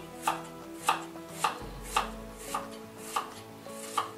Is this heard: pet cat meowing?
no